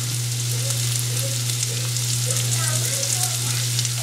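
Finely chopped mango pieces go into a hot pan for mango pickle, giving a steady loud sizzle and frying hiss with faint stirring, no voices.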